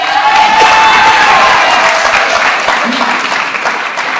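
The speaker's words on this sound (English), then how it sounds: "that's when you clap for me" Loud, close applause and light cheering from a school audience at an eighth-grade graduation, a full burst of clapping that gradually thins out.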